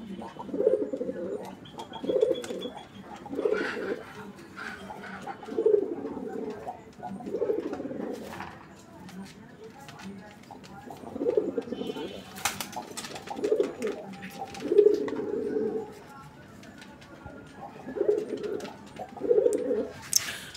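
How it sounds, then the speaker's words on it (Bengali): A male pigeon coos repeatedly nearby, throaty rolling calls coming in regular bursts every couple of seconds with brief pauses between phrases over a quiet room background. "ডাক আপনারা দেখছেন, আলহামদুলিল্লাহ অনেক সুন্দর ডাকে এই নটটিও"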